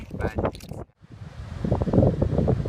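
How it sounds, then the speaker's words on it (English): Blustery wind on the beach at Constantine Bay, on the South West Coast Path, buffets the microphone, briefly drops away, then returns in a loud, steady rush, with a voice heard faintly early on. "very windy"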